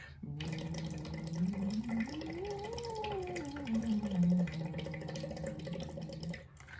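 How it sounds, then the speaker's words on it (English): A singer hums through a straw into water for water resistance therapy, a sustained sliding voiced tone rising and falling over a continuous soft bubbling gurgle, close and moderately quiet. "So the straw goes into the water and you just simply vocalize through it."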